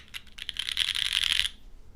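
Keys on a Mode Envoy mechanical keyboard are pressed very hard in a quick cluster of loud, clacky strikes. The strikes blur into a dense rattle for about a second, then stop.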